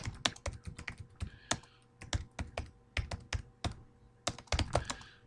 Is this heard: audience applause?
no